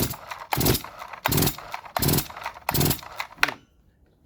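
Ported Farmertec G366 chainsaw engine catching on its first start, giving four or five short loud raspy bursts of firing about a half second apart before cutting out to quiet.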